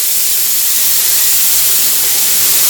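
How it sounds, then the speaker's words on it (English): Tablespoon of water added to a hot stir-fry pan, giving a loud, steady steaming hiss that holds broad and constant throughout, with no talk. "Now we just need to add a tablespoon of water."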